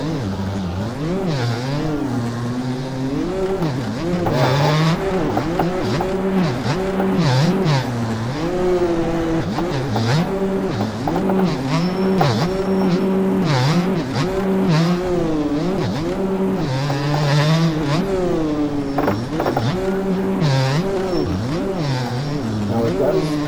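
Gas Gas 250 two-stroke dirt bike engine in the MX Bikes game, revving up and down repeatedly in a rising and falling whine with sharp throttle blips, loud and close throughout, with a voice talking over it.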